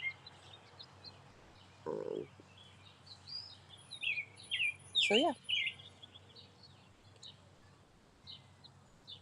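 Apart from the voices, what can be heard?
birds chirping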